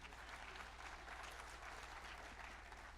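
Steady clapping from an audience at a Bundeli cultural gathering with web series performers, a dense, even patter of hands heard faintly at a distance for a few seconds.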